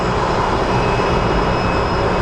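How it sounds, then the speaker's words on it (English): Airbus A220 jet at Phoenix Sky Harbor Airport producing a loud, continuous broadband engine roar that stays even throughout the short stretch, with no talking. "They call it the Airbus A220."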